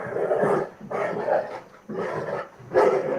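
A dog barks four times in a slow, even rhythm, each bark a full, gruff burst, moderately close with quiet pauses between.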